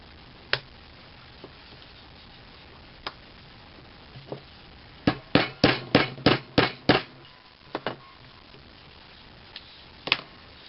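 Sharp metallic hammer strikes on a button setter over leather, a few scattered taps then a quick run of about eight firm blows in a row, close and crisp.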